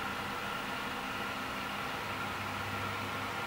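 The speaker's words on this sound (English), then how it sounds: "In contrast, the PC sounds like this." A desktop PC's cooling fans whir under a music-production load, making a steady, even broadband hiss with a faint tonal hum, heard alone and constant throughout.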